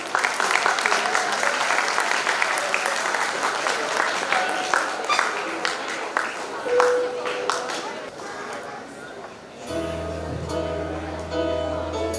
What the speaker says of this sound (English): Welcome them with a huge round of applause.